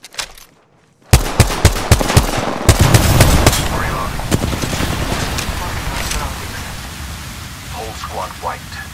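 Gunfire in Apex Legends, a sudden burst of rapid automatic shots after a quiet moment, then sustained crackling fire and impacts fading into softer rattles, with game voice lines over it.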